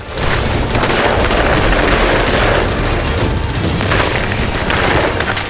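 Heavy gunfire and blasts during an attack, loud and continuous, with a dense barrage of booms and bursts filling the whole stretch and no speech.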